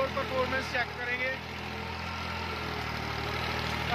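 A New Holland 4x4 tractor engine runs under heavy load with a steady low mechanical hum and idle-like throb, while someone talks over it near the start.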